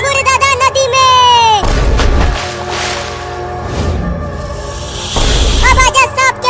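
A cartoon cobra snake hisses loudly in a long sustained burst, framed by bright whooshing effects and loud cartoon sounds at the start and end.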